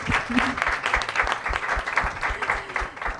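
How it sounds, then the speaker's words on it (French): An audience at a French conference on digital accessibility and inclusion applauds its panel speakers, with steady, moderately distant clapping from a crowd that continues evenly throughout. "je vous propose qu'on applaudisse nos intervenants"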